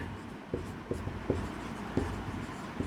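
Chalk or marker tapping and scraping on a board during a chemistry lesson, a handful of short, fairly faint strokes at a steady pace over a soft room hum.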